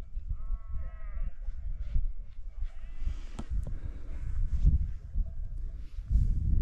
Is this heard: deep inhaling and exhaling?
no